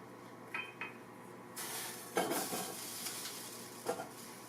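A vegan quinoa dish stirred in a pan with a few soft scrapes and light clinks of a utensil, then a gentle sizzle as the heat is turned down, heard close and fairly quiet.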